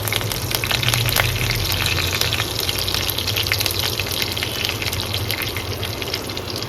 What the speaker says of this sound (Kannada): ಸ್ವಲ್ಪ ಎಣ್ಣೆ, ಸ್ವಲ್ಪ ಬೆಣ್ಣೆ ಹಾಕ್ಕೊಂಡು ಅದಕ್ಕೆ ಸಾಸಿವೆ, ಸ್ವಲ್ಪ ಜೀರಿಗೆ, ಕರಿಬೇವಿನ ಸೊಪ್ಪು